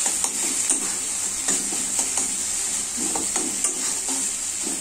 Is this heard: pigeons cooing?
no